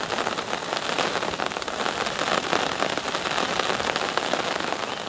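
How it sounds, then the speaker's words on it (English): Steady rain patters down on a night carp fishing camp in windy weather, a dense, even hiss of drops that holds at the same level throughout with no voices. "As you can hear, it's beginning to rain"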